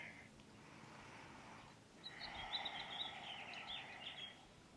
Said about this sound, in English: I don't know if you can hear the birds, but they're so beautiful.